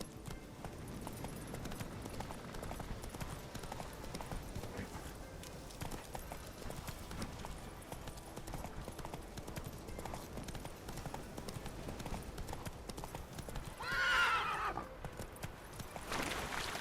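Horse hooves clip-clopping at a steady galloping rhythm throughout, with a loud neigh near the end, from a horse ridden in The Witcher 3 video game, under faint background sound.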